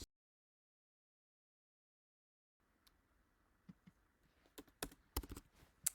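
Keystrokes tapped on a computer keyboard while entering a year and date, a silent stretch giving way to scattered, irregular clicks that grow denser and louder toward the end, with no talking.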